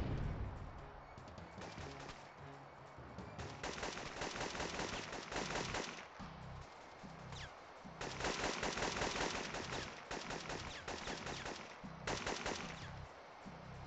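Sustained bursts of automatic gunfire from the video game Syphon Filter 3, loud and dense, coming in long rapid volleys separated by short lulls.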